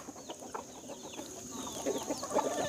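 Backyard flock of chickens with a rooster and baby chicks clucking and cheeping together as they eat at feeding time, a steady close chatter of overlapping calls that grows busier and louder toward the end.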